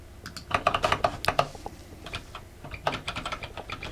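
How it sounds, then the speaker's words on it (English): Typing on a mechanical keyboard, close and crisp, with quick bursts of clacking keystrokes separated by short pauses. "Sorry, mechanical keyboard"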